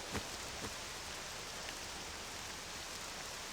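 Steady rain in the game Octopath Traveler II hisses as a broad, even wash of noise with a few faint drop ticks, moderately soft and continuous without speech.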